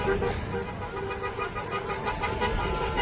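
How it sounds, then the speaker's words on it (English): Car horns toot from passing traffic on a busy road beside a large outdoor gathering, the honks repeating over continuous crowd and traffic noise, with voices mixed in. "People are driving around honking at you guys."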